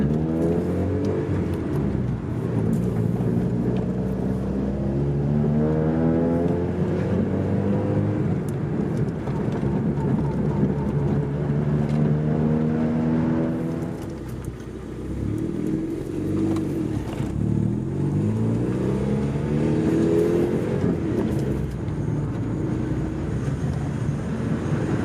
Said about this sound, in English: I'm gonna go take it for a drive around the block now